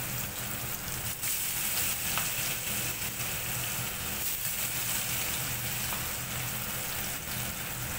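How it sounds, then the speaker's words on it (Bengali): Katla fish pieces frying in hot oil in a wok, a constant, even, rain-like sizzle that holds steady for several seconds, close up with no talking. "এবার তেলটা গরম হয়ে গেলে ওই মাছগুলো একটা একটা করে ছেড়ে দেব।"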